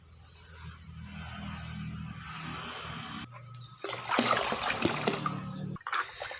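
Liquid fertilizer is stirred into about four litres of water, four teaspoons' worth, with a continuous trickling and sloshing that turns into louder splashing and swirling partway through.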